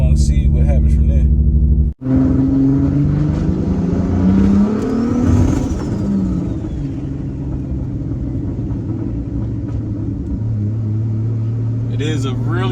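A Lexus IS300 with a swapped 2JZ engine idles roughly as it warms up after sitting, a steady close, loud low rumble with uneven pulsing and a brief cut near the start.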